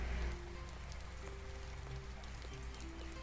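Steady rain falling in the video game Rain On Your Parade, a continuous close hiss of drops on surfaces with faint low background tones, heard alone without talk.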